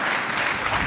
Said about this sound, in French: On les accompagne avec des applaudissements encore une fois, s'il vous plaît.